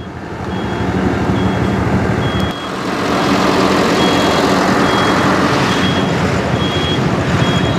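A crane truck pulls a crashed car off a road divider at Karaswada, Mapusa. Its steady, loud, repeating reversing beeps sound over a rumbling engine, without pause.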